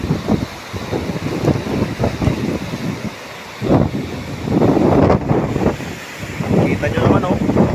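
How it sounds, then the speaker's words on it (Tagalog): Strong wind buffets the microphone at an ocean shore while waves surge and crash in rolling bursts. The roar rises and falls, loud and close, and a person can be heard talking over part of it. "Grabe lang yung alon."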